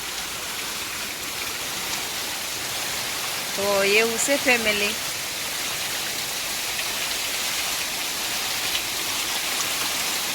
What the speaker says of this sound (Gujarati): ત્યાં વરસાદ આવી ગયો જુઓ કેટલા નેવા ખરે જોરતા